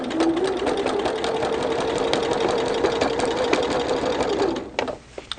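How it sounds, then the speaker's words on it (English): Sewing machine stitching steadily through thick layers of a Christmas tree quilt during machine quilting, a continuous close mechanical whir with a faint hum, stopping abruptly near the end with a couple of small clicks. "We're shoving some more through. We'll sew again."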